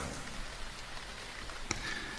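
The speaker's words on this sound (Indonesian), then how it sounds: "suara rintik hujan membuatku tak lama langsung tertidur." Light rain drizzles at night outside a room, a soft, even patter of drops with one brief sharper tap near the end and no voices.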